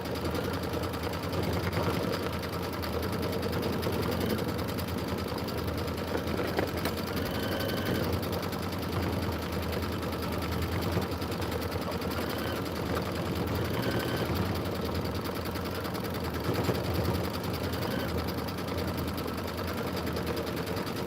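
An Aveneer Lumina sewing machine runs a custom quilting pattern, a steady loud continuous mechanical whir with fine rapid stitching rhythm that holds unbroken for the whole stretch.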